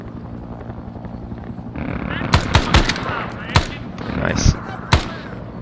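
Bursts of automatic gunfire laid down across a front line near bamboo in close-quarters fighting near Pakpong, loud sharp shots in irregular bursts with a helicopter-like drone underneath and a brief voice.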